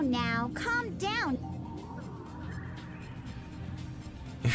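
A cartoonish bird character from the Sonic Adventure video game gives a few quick, warbling squawks near the start, then quieter game sounds and background noise follow.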